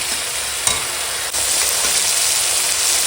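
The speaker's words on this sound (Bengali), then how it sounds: "লবণের সঙ্গে টমেটোটাকে ভেজে নিচ্ছি" Tomatoes frying with salt in a pan for a small-fish curry, a loud steady sizzle with soft stirring scrapes, close and continuous throughout.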